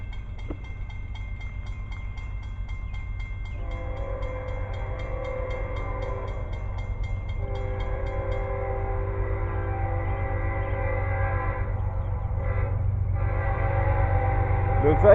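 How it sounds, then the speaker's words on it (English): A freight train rolls steadily past at a railfanning trackside, its broad low rumble swelling slowly over fifteen seconds while sustained horn tones sound above it. "there it goes, another train."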